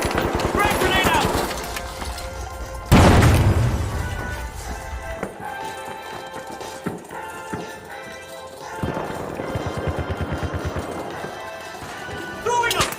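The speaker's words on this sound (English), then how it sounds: "Frag grenade out!" A frag grenade in The Finals lands and goes off in one loud, close blast at about three seconds, surrounded by rapid clattering game action before and after.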